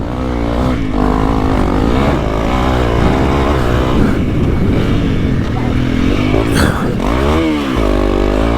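A Honda CRF300L motorcycle rides a track, its engine loud and close with rising and falling revs as gears shift, and a brief dip near the end.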